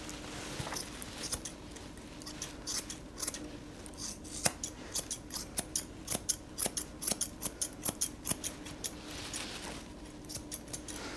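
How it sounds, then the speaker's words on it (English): Curved grooming scissors snip repeatedly close up, quick metallic clicks in uneven bursts, settling into a steady run of cuts through a doodle dog's fur, with a low hum behind. "you take your curved scissors and you just basically curve around them"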